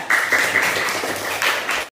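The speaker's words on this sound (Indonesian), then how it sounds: "sekarang beri tepuk tangan lagi untuk kelompok 3" A class claps for group 3 after their presentation, giving a close, steady burst of applause from many hands that stops abruptly.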